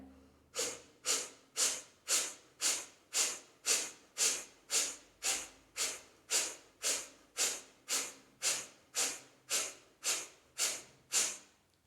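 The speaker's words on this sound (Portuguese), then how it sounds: "vou mostrar rapidamente como seria a respiração do fogo" Breath of fire yoga breathing: about twenty sharp, forceful nasal exhales in a fast, even rhythm, close and clear with no talking.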